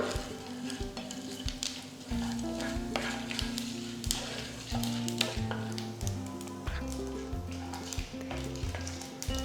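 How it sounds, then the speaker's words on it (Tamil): Mustard seeds splutter in hot oil in a pan, crackling and sizzling steadily with dense popping bursts, and faint tonal background music running throughout. "கடுகு பொரிய ஆரம்பிச்சிருச்சு"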